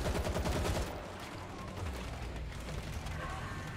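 Gunfire in the video game World War Z: a rapid, steady burst of automatic shots at the start, then dense continuous battle noise at a moderate level.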